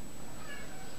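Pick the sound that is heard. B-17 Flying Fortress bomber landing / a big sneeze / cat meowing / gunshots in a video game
cat meowing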